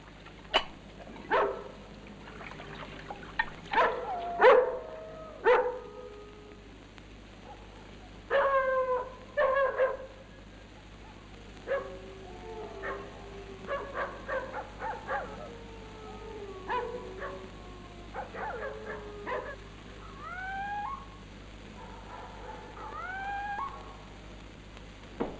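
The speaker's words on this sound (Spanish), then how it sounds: "Los perros están como locos." Several dogs bark repeatedly at night outside a village house, with sharp yips and whimpering calls at irregular intervals, some near and some farther off, against a low steady hum.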